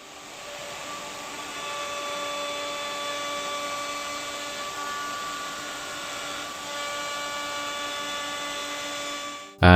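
A plunge router fitted with a straight bit and guide bushing cuts an MDF template, giving a steady, loud high-pitched motor whine with strong harmonic tones that holds for about ten seconds before a sudden stop, with no voices.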